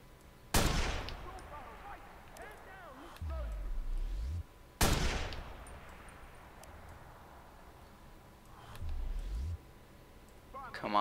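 Gunfire in the video game Watch Dogs, a sniper rifle and pistol, with two sharp, loud shots several seconds apart, each followed by a long echoing tail, between stretches of quieter game ambience and low rumbles.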